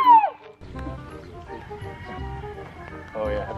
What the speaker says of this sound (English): that's an actual rooster